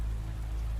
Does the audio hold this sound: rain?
yes